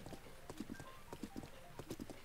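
Horse hooves clip-clop at a steady trotting rhythm in The Legend of Zelda: Breath of the Wild, riding through the Akkala region; the regular hoofbeats are moderately close and carry on under faint game ambience.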